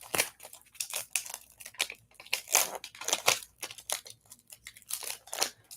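A craft sheet is peeled away from its release sheet in a run of crinkly, crackling tears close by, coming in uneven bursts with short pauses between pulls.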